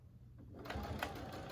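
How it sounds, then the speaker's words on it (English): Sewing machine stitching quilt binding, a brief close run of rapid steady mechanical whirring that starts after a quiet moment. "And then I'm going to stitch almost to the end, and I'm going to flip this side up"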